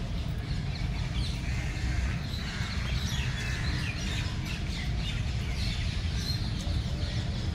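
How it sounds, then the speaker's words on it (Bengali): Birds call and squawk from several directions in a garden over a steady, loud outdoor background, scattered chirps continuing throughout without speech. "চারিদিকে পাখির আওয়াজ, খুব সুন্দর লাগছে।"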